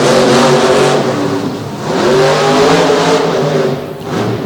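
Monster truck with a broken left rear axle roars and revs loudly as it drives around the arena floor at a Salisbury monster truck event, engine pitch rising and falling in continuous surges.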